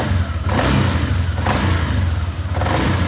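A car engine, just fitted with a repaired ECU and showing no check-engine light, runs steadily and loudly up close, swelling in three revs over a rumbling idle; smoke follows the start, and no one speaks.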